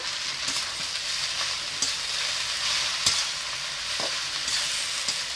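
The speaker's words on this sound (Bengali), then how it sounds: "শাকটা ঘাঁটা হয়ে যাওয়ার জন্য আমি একটা আলু দিয়ে ভেজে নিচ্ছি" Red amaranth greens and a potato fry in a pan, giving a steady close sizzle with a few sharp stirring scrapes scattered through, no voices.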